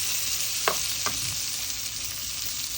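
Food sautéing in a pan gives a steady close sizzle, with two quick utensil clicks near the start and no voices.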